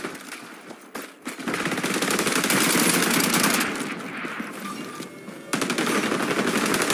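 Sustained automatic gunfire in the first-person shooter XDefiant: a dense, loud rattle of rapid shots runs almost continuously for several seconds, with a brief pause before another burst.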